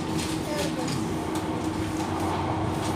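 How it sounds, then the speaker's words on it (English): Interior of a moving Manchester tram, with a steady rumbling ride and rail noise filling the cabin throughout, faint background voices underneath. "So guys, we are on the tram."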